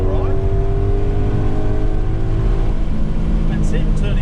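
A Ford Mustang GT lapping a track called The Farm, its engine a loud steady drone that shifts pitch partway through as it moves through corners, with a voice talking over it.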